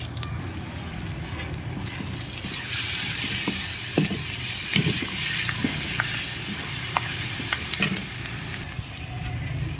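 Onions fry with garlic paste, turmeric and curry leaves in a pan as a bitter gourd fry is made, a loud steady sizzle broken by repeated scraping stirs of a spoon.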